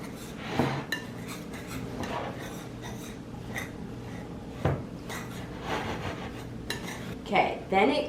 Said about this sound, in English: Then we're gonna whisk all of this in.